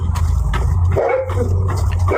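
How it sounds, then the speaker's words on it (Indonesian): A dog barks and yips several times in quick bursts over a low, steady hum in the background. "Guguk sebelah tuh."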